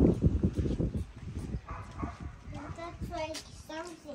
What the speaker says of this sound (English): Some dogs.